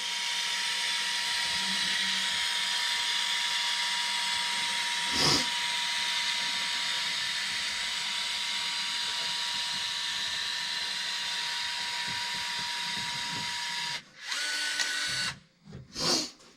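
Seam sealer is pushed from a hissing pneumatic applicator onto a car's rear floors in a long, steady, close spray, broken near the end by a few short bursts and stops.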